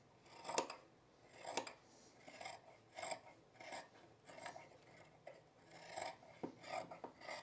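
Scissors trim fabric for a Sylvan jacket, giving a close, quiet series of crisp snipping cuts about every half second, each with a slight rasping slide of blade against cloth.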